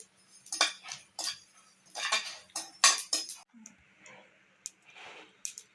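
Sesame seeds dry-roasting in a pan for idli podi, popping and crackling in quick irregular bursts of sharp clicks and ticks, close and fairly loud, with brief pauses between clusters.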